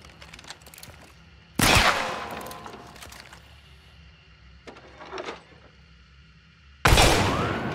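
Gunshots from slug ammunition in Hunt: Showdown, two loud booming blasts several seconds apart with a smaller report between them, ringing out over quiet game ambience.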